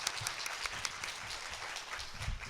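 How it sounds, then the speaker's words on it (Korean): Steady applause from a conference audience after a panel discussion, a dense wash of clapping sustained throughout without speech. "저희 마지막으로 패널 분들에게 박수 크게 한 번만 주시면 감사하겠습니다."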